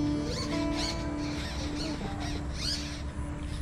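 A bird known locally as kekade, calling with crow-like caws near a Konkan home, gives several harsh, fairly close calls in quick succession over a steady background hum.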